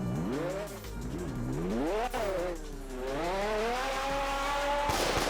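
A rear-wheel-drive car drifts in the Roblox game Fix It Up, its engine droning and rising and falling in pitch alongside steady tire squeal, loud and continuous, with a short burst of noise at the end.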